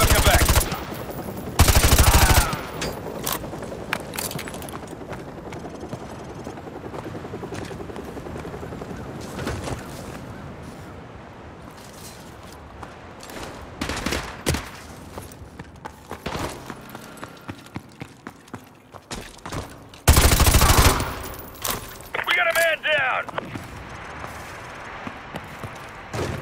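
Gunfire in the video game Call of Duty: Modern Warfare 2 Remastered, with loud close bursts of automatic fire near the start and again later, and scattered distant shots and battle noise in between.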